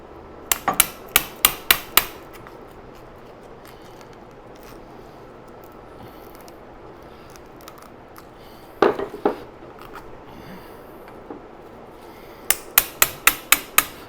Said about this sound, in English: I'm using an old wood chisel to do this with